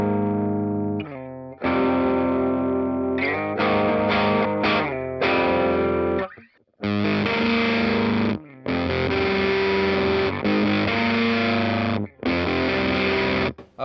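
Electric guitar played through fuzz and overdrive pedals gives loud, thick distorted chords and riffs in repeated bursts separated by abrupt gated silences, with no talking.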